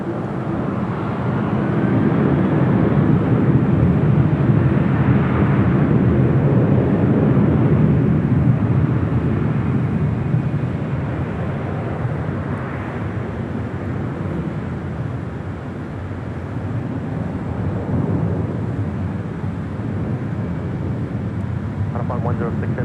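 A jet airliner takes off from runway 24 left at LAX, a loud broad engine roar that swells early and slowly recedes, with radio voices talking over it throughout.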